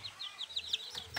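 Day-old native village chicks peep in quick, high, repeated chirps, several small calls overlapping at close range in a short, busy burst.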